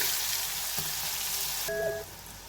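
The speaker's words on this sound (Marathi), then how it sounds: "मिरच्या छान तळल्या गेल्या आहेत" Green chillies sizzling and frying in hot oil for pithla, a steady, faint crackling hiss with no talking.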